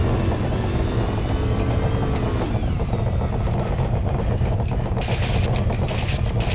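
Video game gunfire and a car blowing up, dense continuous rattling shots over an engine rumble, with a burst of explosive crackle in the last seconds, loud and unbroken throughout.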